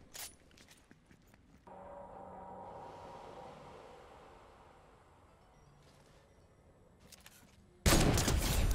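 A couple of sharp, loud sniper gunshot cracks in Fortnite, separated by quieter ambient rumble and a long low whoosh.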